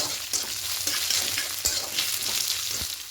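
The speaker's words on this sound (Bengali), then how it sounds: "এবার পোস্তটা দিয়ে একটু হালকা করে ভেজে নেব।" Poppy seeds frying lightly in a pan, a steady close sizzle with soft scraping stirs at irregular intervals and no voices.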